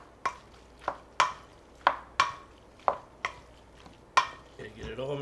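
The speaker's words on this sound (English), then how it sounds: "Now we're going to mix this up." Guacamole with pico and lime juice gets mixed in a bowl, a run of about eight sharp, evenly spaced scraping knocks of a utensil against the dish, close and fairly quiet, with a voice starting at the end.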